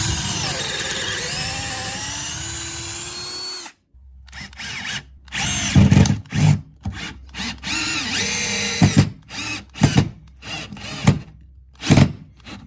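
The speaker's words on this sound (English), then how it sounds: "does a pretty good job of drilling" A Bosch Flexiclick 12V cordless drill whines steadily, then stops and restarts in short bursts of varying length as the bit works into material, close and loud.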